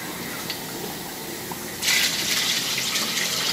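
Water pours steadily from a tap into a large pot of chicken and vegetable soup. After a quiet hiss, a bright rushing gush starts suddenly and keeps a constant level.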